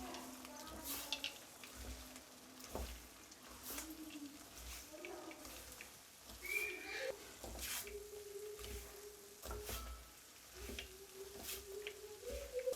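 Papdi being stirred into hot cooked sugar syrup for paprri nuts chikki: soft sticky squelches and scraping in a pan, with someone speaking quietly over the stirring.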